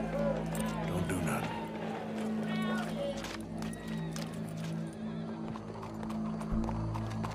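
Horse hooves clip-clopping and a horse neighing in the Red Dead Redemption 2 video game, mixed with game music and ambient noise, steady and fairly loud throughout.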